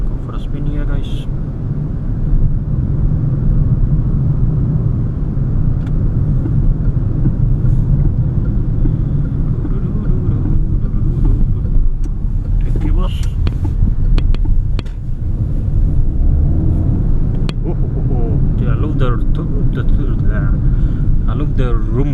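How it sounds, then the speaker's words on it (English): A 2024 Peugeot 2008 with a 1.2 PureTech 129 hp petrol engine drives in sport mode, giving a steady, deep, close rumble throughout with a brief dip midway, while a voice talks over it in places. "I love the rumble when you go into sports mode, and can you hear it?"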